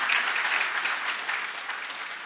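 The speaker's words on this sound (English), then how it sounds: "We can do better with a round of applause for our permanent secretary" Round of applause for a permanent secretary at a closing ceremony in Abuja: dense clapping from a large audience, steady and even throughout before tapering slightly.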